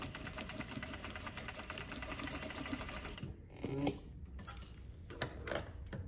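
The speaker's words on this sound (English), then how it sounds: "you can just sew a little farther over so you don't catch the seam allowance in there" A sewing machine stitches a fabric face mask, its rapid needle whir running steadily and close before slowing into a few brief bursts and clicks as the work shifts.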